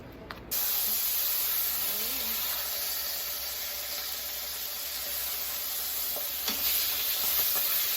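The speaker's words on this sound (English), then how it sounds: "Here's what I'm cooking for our breakfast today. This is uncured pork sausage with fine herbs from wild fork." Uncured pork sausage with fine herbs frying in a pan beside shrimp, a loud continuous close sizzle and hiss that switches on abruptly and holds steady, with a few faint utensil taps.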